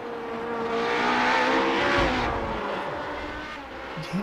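Radical race car spinning out alone through turn 7 at Road Atlanta in iRacing, a sustained engine drone that rises and sweeps with a brief squeal, fading slightly toward the end.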